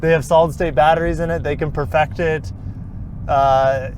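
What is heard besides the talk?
No everyday noises stand out.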